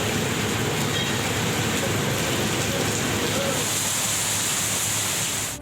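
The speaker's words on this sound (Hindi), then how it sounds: "मुल्तान, खानेवाल, जहानिया और कहरोड़ पक्का समेत दीगर शहरों में तेज बारिश और जालाबारी" Heavy pre-monsoon rain pours in Punjab, Pakistan, a dense, steady, roaring hiss that stays loud throughout and cuts off at the end.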